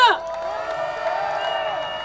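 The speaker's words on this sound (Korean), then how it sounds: "우리 김준영 의원님께 뜨거운 박수 부탁드리겠습니다" A crowd at a night-time candlelight protest rally outside Seocho Station, Seoul, cheers and whoops steadily and fairly loudly for about two seconds, a continuous wall of voices after the call for applause.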